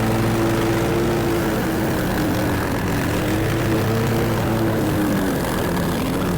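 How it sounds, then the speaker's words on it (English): A lawn mower running at full power pushes through thick, overgrown growth during a yard cleanup. Its engine drones loud, close and steady throughout, with no pauses and a slight waver in pitch. "A little too thick for the mower"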